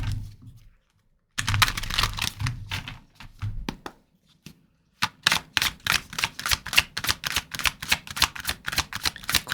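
Tarot cards are shuffled up close in a run of quick, crisp riffling taps with short pauses, then a faster, steady burst of card clicks, with no talking.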